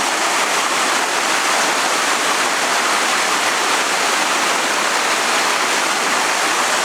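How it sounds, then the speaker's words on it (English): A small river on Martinique rushes steadily beside a road through lush countryside, a loud, continuous broadband water roar with no voices. "here's one of the many rivers, small one, but still a river, that flow down through the island"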